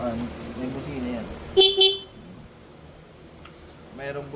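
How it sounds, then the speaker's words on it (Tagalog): Two quick car horn toots, close and loud, beside people talking. "Mayroong busina."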